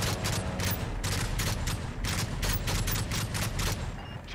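Rapid bursts of automatic gunfire fired at a sentry gun in Modern Warfare 3 Spec Ops, loud and continuous with rhythmic shot pulses and no speech.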